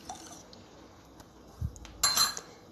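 A utensil mixes milk with sugar and other brioche ingredients in a bowl, making faint scattered clinks and taps, a soft thud, then a brief wet, rattly stirring burst near the end.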